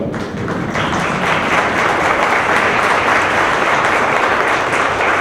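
A large audience gives loud, sustained applause at the close of a formal transparency agreement signing ceremony, a thick continuous wash of clapping with no pauses.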